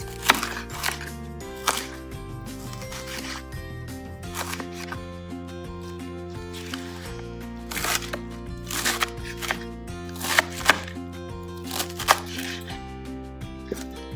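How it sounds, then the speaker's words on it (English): A knife chops through cabbage on a board in steady, repeated strikes, crisp and close, with music playing underneath throughout. "so I'm cutting up all the cabbage"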